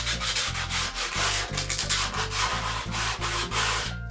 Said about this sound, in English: I'm going to use my sandpaper, and I'm just going to use it lightly